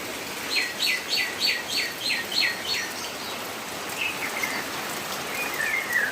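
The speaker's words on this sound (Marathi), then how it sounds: "झाडावरचे पक्षी पावसाचे थेंब पडत आहे म्हणून खूप आनंदाने गात आहे" A bird repeats a quick series of chirps, then sings softer, more scattered notes over a faint, steady patter of rain.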